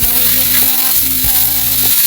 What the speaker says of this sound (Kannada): ಈಗ ಒಂದು 5 ನಿಮಿಷ ಹಾಗೆ ಹುರ್ಕೋತೀನಿ ನಾನು